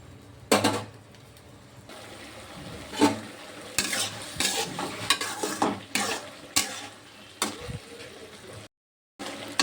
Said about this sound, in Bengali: ঝোলটা কমিয়ে নেবো, ঢাকনি দিয়ে দেবো না,